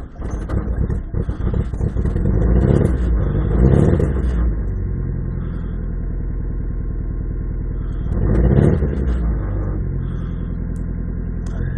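A 1996 Mitsubishi Eclipse RS idles while it warms up after a hard cold start. The engine smokes badly and the car has a bad starter. A close, steady low rumble holds throughout and swells twice as the revs rise.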